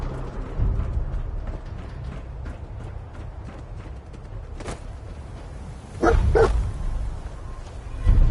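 Dogmeat, the dog companion in the Fallout video game, lets out a few sharp barks over a busy game background, with a louder burst of barking near the end.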